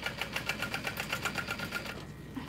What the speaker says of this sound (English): we're going to top stitch all the way around, birth it, close up our hole, and top stitch again.